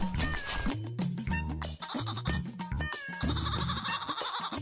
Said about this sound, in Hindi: आपके पीछे बकरी